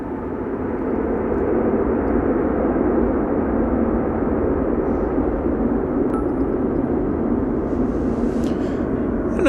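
Airplane, Flight 114, at DFW Airport, a steady heavy low engine rumble sustained throughout, fairly loud with no voices.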